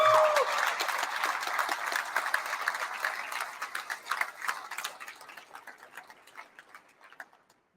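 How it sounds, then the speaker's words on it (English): Audience applause fills the hall at a 2021 KBF national championship awards ceremony in Shreveport-Bossier, Louisiana: dense, crackling clapping that starts full and gradually thins and fades over several seconds. "y'all give him a big round of applause"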